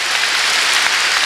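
A congregation claps together during a Korean Sunday worship service at a church, producing a dense, steady wash of applause that stays loud and even throughout, with no voices over it.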